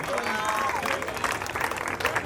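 Brief burst of applause from an audience at a society Navratri garba festival, dense clapping under a presenter's voice.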